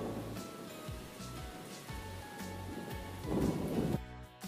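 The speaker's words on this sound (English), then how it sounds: "Thunder is the loud sound you hear after lightning flashes in the sky." Thunder rumbles low through steady rainfall, with repeated deep rolls and a louder crack near the end, no voices.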